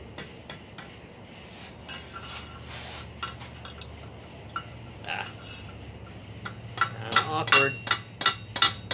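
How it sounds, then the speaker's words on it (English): Steel being hammered over the horn of a blacksmith's anvil while reforging a tong rack, with scattered ringing strikes at first and a denser run of sharp blows near the end, plus a brief spoken word. "I'm going to work on the horn or bick of the anvil."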